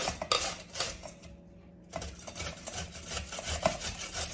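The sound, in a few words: cutting up turmeric root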